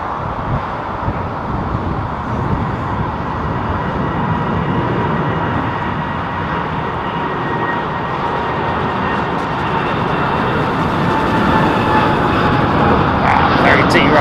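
Airplane taking off in the video game Roblox, a loud steady jet roar that builds slightly toward the end, with voices present underneath.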